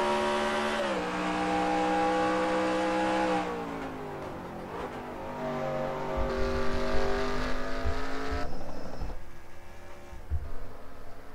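A stock race car engine in a racing video game, loud and steady, dropping in pitch as gears shift and then winding back up under acceleration, with tire noise low underneath.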